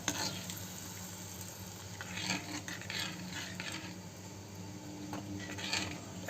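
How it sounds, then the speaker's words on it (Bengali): A yogurt and spice masala for a dry potato-cauliflower curry fries in a pan with a steady low sizzle, broken by occasional scraping stirs. No voices are heard. "এখন এই মশলাটা কষতে থাকুক"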